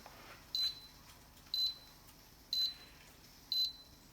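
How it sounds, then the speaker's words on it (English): A Bella 8-quart multi cooker gives four short, high electronic beeps at a steady one-second pace, clear against a quiet background hiss. "we'll wait for the beep real quick"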